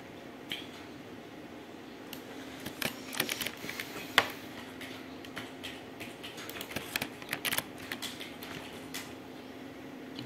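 Keyboard shortcuts tapped on a computer keyboard produce scattered, soft key clicks in small clusters, close and quiet over a faint room hum, with no voices.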